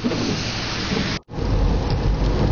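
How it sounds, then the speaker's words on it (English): Rain drums on a car driving the back roads of Holland, Michigan, a loud, steady broadband rush with a brief dropout midway, no voices. "hopefully it will stop raining soon"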